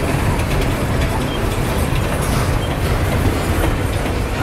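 Steady rumbling of a train rolling along the rails, with a continuous loud roar and faint rhythmic clatter from the wheels throughout.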